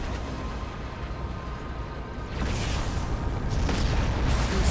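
Gunfire and explosions in Halo 2 on Legendary difficulty: dense, continuous rumbling booms and blasts that swell louder partway through, with no clear individual shots.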